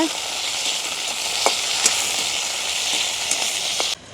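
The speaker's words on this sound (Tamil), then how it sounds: "எண்ணெய் வந்து கொதிச்சிட்டுது இப்போ நாங்கள் சித்தல் மிளகாய் போடுவோம்" Dried red chillies sizzle in hot, boiling oil in a village kitchen, a steady close frying hiss with occasional pops and crackles, no talk.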